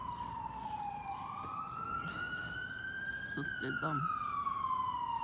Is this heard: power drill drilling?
no